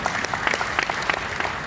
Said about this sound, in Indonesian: ini boleh tepuk tangan.